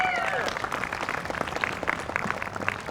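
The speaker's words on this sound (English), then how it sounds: "A round of applause, please." Crowd applause at a political rally for the People's Party of Canada in Hamilton, steady clapping and cheering throughout, with a brief whistle-like tone at the start.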